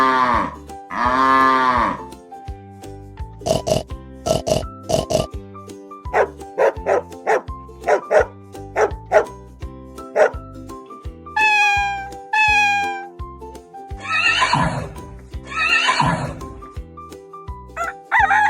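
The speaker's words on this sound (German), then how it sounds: "wir gehen zusammen nochmal zu den Tierli und schauen, was für Geräusche sie machen" A sequence of farm animal calls, including a dog barking, a cow mooing, a cat meowing and a horse whinnying, each heard clearly and separately with short pauses in between.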